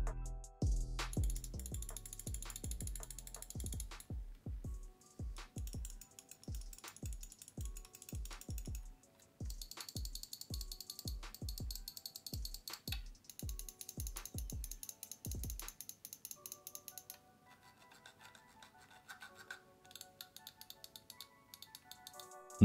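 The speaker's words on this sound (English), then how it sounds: "The scroll feel feels good, it has defined steps and it's pretty easy even to press down the button." A Hati S gaming mouse scroll wheel is rolled through its defined steps, producing rapid, crisp ratcheting clicks in quick bursts and steady runs, close up and alone, ending in lighter, finer clicking.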